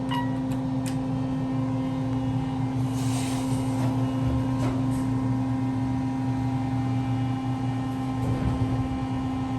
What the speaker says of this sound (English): Fan is so loud we can't even hear the motor well.